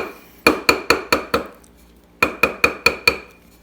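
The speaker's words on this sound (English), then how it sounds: "we're going to just tap it with a hammer really light" Two bursts of five light, ringing metallic taps each as a hammer taps an opal ring to resize it, evenly spaced with a short pause between groups, close and clear.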